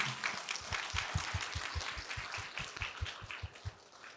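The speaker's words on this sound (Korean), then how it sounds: "여러분 박수 부탁드릴게요" A church congregation applauds steadily during a Sunday service, a dense patter of many hands with a regular thumping beat running underneath, no voices.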